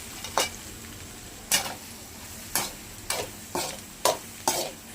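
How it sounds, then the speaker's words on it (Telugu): Egg with salt and turmeric being stirred in a frying pan: seven sharp scraping strokes of a spatula against the pan, spaced about a second apart, over a faint steady sizzle. "కాస్త సాల్ట్ కాస్త పసుపు పొడి వేసుకొని నీట్గా కలుపుకుందాం"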